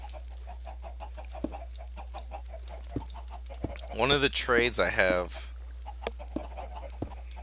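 Minecraft chickens cluck in short, repeated bursts from a crowded pen at a soft, steady level, while someone talks over them in the middle.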